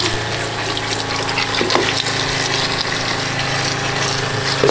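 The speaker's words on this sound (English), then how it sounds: "It's pulling the water from the tank through the pump, through the pre-filter, through the Doulton, out here." A water pump draws water from a tank and pushes it through a pre-filter and a Doulton Rio 2000 filter. It makes a loud, steady mechanical hum under rushing, gushing flow, with no talk over it.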